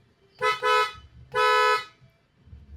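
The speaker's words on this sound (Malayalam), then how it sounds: "ബെൻസ് ടൈപ്പ് ഒരു ഹോണാണ് നമ്മളിതിലേക്ക് ചെയ്തേക്കുന്നത്" A Benz-type aftermarket horn fitted to a Maruti WagonR ZXi honks twice: a short double toot followed by one longer blast, loud and close, with quiet background between.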